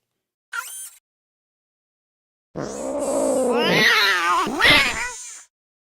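A robotic cat in a Nancy Drew video game gives a short meow, then after a pause a longer, wavering drawn-out meow with a rising, caterwauling cry, clear and close against silence.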